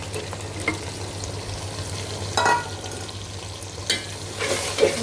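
Ground paste of green chilli, cumin, cardamom and cinnamon fried with beef liver in a pan, a steady sizzle with occasional louder bursts as it is stirred.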